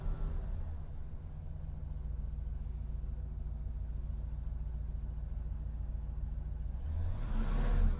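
Pontiac Grand Prix engine idling steadily with a deep low rumble, rising into a brief louder rev near the end; no one talks.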